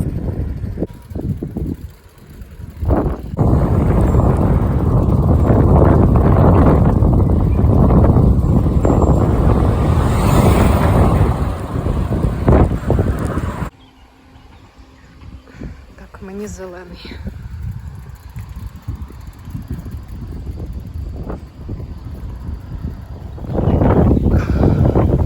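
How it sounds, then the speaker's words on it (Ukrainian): Loud, roaring headwind buffeting the microphone during a bicycle ride for a long stretch, easing briefly before gusting again, with a voice speaking intermittently underneath. "Вітер зустрічний"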